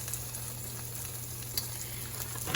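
Southwest chicken rollups topped with cheese fry in a pan with a steady, close sizzle and crackle, a broadband hiss holding evenly throughout with a few brief pops and no talking.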